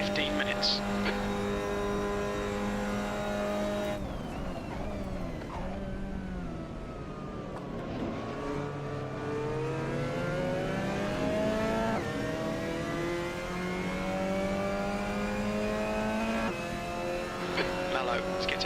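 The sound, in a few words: Lamborghini engine revving in a racing video game at COTA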